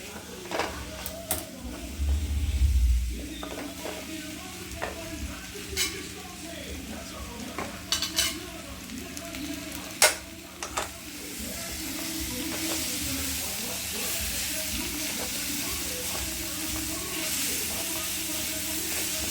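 Ripe banana pieces frying in ghee in a pan for a Mohanlal-favourite dessert, a steady close sizzle that runs throughout with occasional utensil clicks and stirring scrapes, while a person talks over it at intervals.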